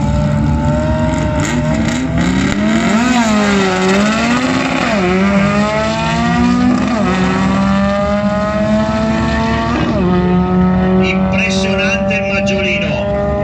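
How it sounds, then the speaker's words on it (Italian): A VW Beetle drag-racing car at the 2018 Rivanazzano acceleration races roars loudly up close, its exhaust rising and falling through several rev sweeps before a sharp drop and another climb. "Guardate il trombone che esce dal motore del maggiolino."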